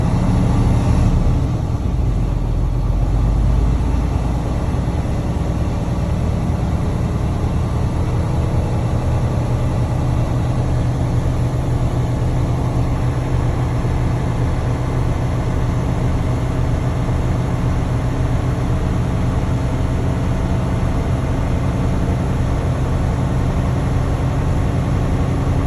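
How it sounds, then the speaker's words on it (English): A Class A truck engine cranks and catches, then holds a steady, loud low rumble at about 1300 RPM for a long stretch with no talking. "clutch in, turn the key over. Gonna rev it at 1300 RPM."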